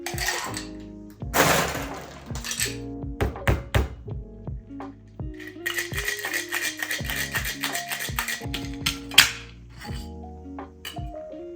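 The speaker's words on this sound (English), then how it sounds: "you want to add ice into your shaker and shake for about 10 to 15 seconds" A cocktail shaker packed with ice is shaken while mixing a Grasshopper, giving a close, rattling run of clattering ice knocks with some louder bursts and irregular rhythm across several seconds.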